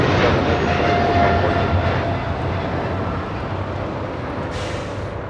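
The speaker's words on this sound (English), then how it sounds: "This is China Airlines Cargo 5137 taking off to Taipei on a 777 freighter." A China Airlines Cargo Boeing 777 freighter takes off, a loud broadband jet roar that holds steady and slowly eases as it recedes.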